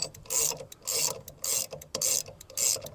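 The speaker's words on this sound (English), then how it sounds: "grab yourself a 5/8 socket. Start winding in that bolt underneath" A 5/8 socket wrench ratcheting as it winds in the jam bolt under a weight distribution hitch: about five bursts of rapid clicking, each broken by a brief pause, loud and close with no talk.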